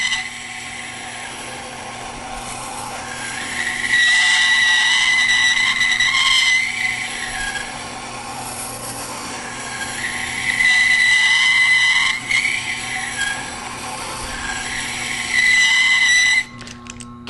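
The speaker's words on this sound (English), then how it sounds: "Get a little bit higher pitch on this because we're grinding at a rather steep bevel angle." A Tormek sharpener grinds a scissor blade on a 220 grit stone, a loud, steady whirring hum that rises to a higher, harsher grinding whine in several long passes of two to three seconds each.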